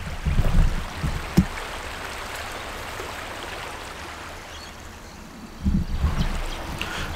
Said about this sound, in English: Beautiful, beautiful little waterfall just in the background there